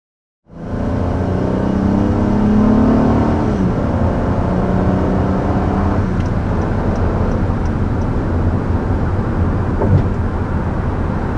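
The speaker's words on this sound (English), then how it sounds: "Our first acceleration in our 2020 Honda Odyssey." A 2020 Honda Odyssey minivan accelerates hard, its engine note rising steadily and loud from the cabin with a shift partway through and continuous road roar underneath.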